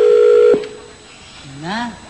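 A white cellphone is dialed on a Filipino noontime TV game show: a steady keypad tone lasts about half a second, then a short voice follows.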